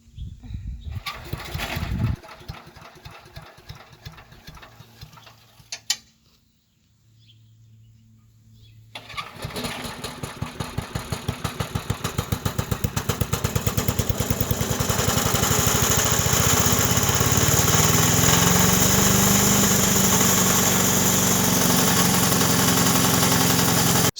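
A Craftsman chipper shredder with a 5HP Briggs and Stratton engine is pulled over a few times with sputters and a pause. It then catches and settles into a loud, steady, close small-engine roar that holds to the end.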